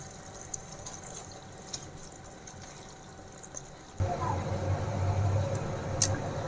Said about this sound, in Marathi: आता आपल्याला पाणी थोडं लागेल, थोडं टाकायचं अजून पाणी